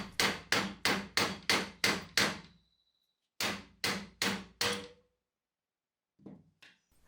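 A hammer strikes a rusted shotgun barrel in a fast, even run of seven loud metallic blows, pauses, then four more, followed by a couple of faint knocks.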